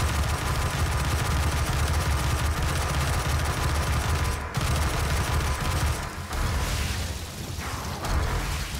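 Rapid-fire explosive weapon blasting nonstop in the video game Doom 2016, a dense, loud wall of gunfire and bursts with brief dips, filling the whole stretch without talk.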